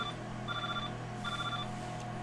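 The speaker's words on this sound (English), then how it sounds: "Ring, ring, ring. Who's ringing? Phone call. It's just the ring phone." A room phone rings in the video game Fate/Grand Order, giving two short electronic ringing bursts with a gap between them over a steady hum of background game music, with no voices.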